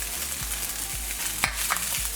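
Egg and lap cheong sausage going into a hot pan of fried rice, giving a bright sizzle and a few scraping stir strokes with a low steady hum underneath, close up and without talk.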